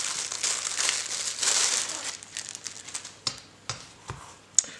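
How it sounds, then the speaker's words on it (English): Crinkly plastic packaging crumples and tears as a 9-inch gut hook skinning knife is unwrapped, a continuous rustle that gives way to a few sharp separate crackles and snaps near the end. "I'll get this out of this packaging."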